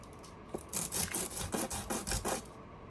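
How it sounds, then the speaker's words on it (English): Rhythmic scratchy rasping of sandpaper rubbing on a wooden ballast load for a model train gondola car, repeated strokes in quick succession, close and moderately loud, with no talking. "Sanding it down."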